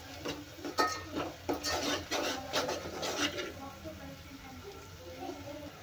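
Masala roasting in oil for a puran poli meal, stirred with a spoon in a pan: a run of close scraping, rasping strokes in the first half, then quieter sizzling with a few light taps, no talk over it.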